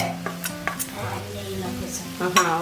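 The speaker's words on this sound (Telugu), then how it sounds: "వేసుకొని ఒకసారి అంతా కలిసేటట్టు కలుపుకోండి" Capsicum fry being stirred with chili powder in a pan, a spoon scraping and clinking against the metal in uneven strokes over a soft sizzle, close by.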